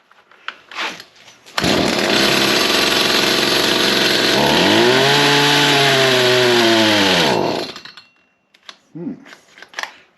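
A small engine under repair fires up loudly, runs unevenly for about six seconds with its revs sagging, then dies out. Brief talking comes before and after the run.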